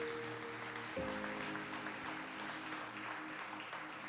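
A church congregation applauds during a sermon, a soft, even wash of clapping under a steady, held musical tone, fairly distant and low in level.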